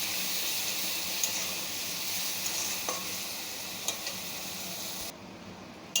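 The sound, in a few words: stirring garlic and green chili paste frying in oil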